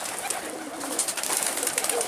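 A pigeon coos softly nearby, a low murmuring call repeating over steady background noise.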